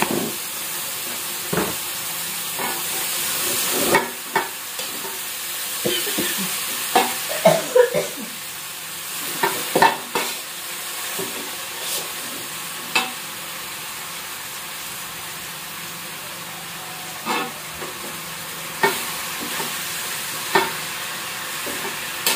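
A spatula scrapes and stirs food in a sizzling pan after palm sugar goes in, with a steady hiss beneath irregular, close scraping strokes and no voices.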